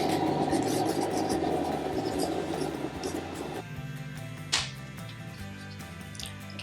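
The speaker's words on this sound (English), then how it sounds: "Let's file those nails up. Let's shape them." Short nails are filed and shaped with a nail file, giving soft, rapid rasping strokes close up that fade and slow partway through, with one brief sharper scrape near the end.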